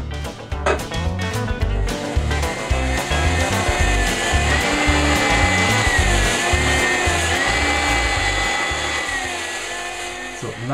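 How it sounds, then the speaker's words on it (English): Continuous abrasive rasping of sanding the inside of a wooden block to remove saw marks, steady and close, with a rhythmic low thumping underneath throughout. "I'm going to sand the inside"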